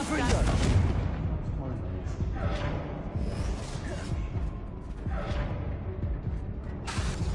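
In Hogwarts Legacy, Confringo blasting spells set off a run of booming explosions. The heavy whooshing blasts come one after another, loud and close, each with a rumbling tail.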